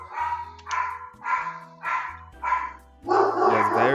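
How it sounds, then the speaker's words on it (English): Dogs bark in a string of about six sharp, fairly close barks at a regular pace, the last one longer and rougher, with no talk over them. "I apologize for the dogs, by the way."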